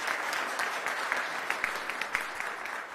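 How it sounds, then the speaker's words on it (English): Congregation applause at a fourth Sunday of Advent service, many hands clapping in a steady, moderately soft wash, with a few sharper individual claps standing out near the end. "Let's give him another round of applause."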